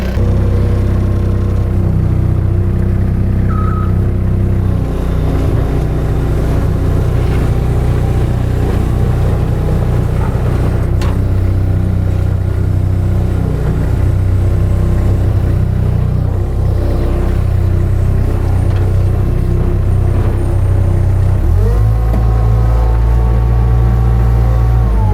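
A Yanmar engine, swapped in to replace the original Perkins 3034, idles warm in a Cat skid steer with a steady, close, loud diesel rumble throughout. The tone shifts slightly near the end.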